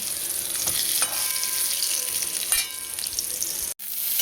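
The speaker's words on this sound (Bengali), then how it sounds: "এই তেলে পেঁয়াজটা ছেড়ে দিয়েছি" Chopped onion fries in oil with a close, steady sizzle, broken by a few light clinks of stirring before a short gap near the end.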